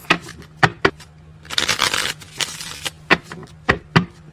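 Tarot cards being shuffled by hand: a run of crisp, close taps and clicks, then a denser riffling burst of about half a second before the taps resume, with no talking.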